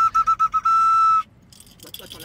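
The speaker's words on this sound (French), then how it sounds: "siffle-nous un coup, tiens, pour réguler la circulation" A person whistles as if directing traffic: five short, shrill blasts, then one long sustained note, loud and close, followed by quiet rustling.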